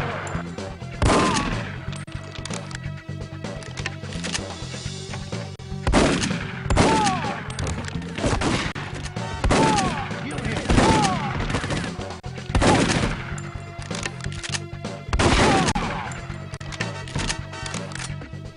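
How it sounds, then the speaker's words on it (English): Heavy shotgun blasts from the James Bond video game The World is Not Enough, roughly six booming shots spaced a few seconds apart, each with a short ringing tail, over a steady game background. "Let's give the shotgun a try."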